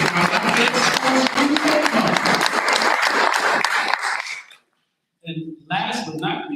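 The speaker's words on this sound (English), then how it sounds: "Another round of applause." Board meeting audience giving a round of applause, a sustained burst of many clapping hands that fades out, followed by a short pause and a voice speaking.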